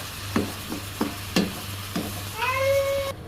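Stinging catfish frying in a pan with a steady sizzle under a low hum, broken by several sharp clinks of a utensil against the pan and a brief whining tone near the end.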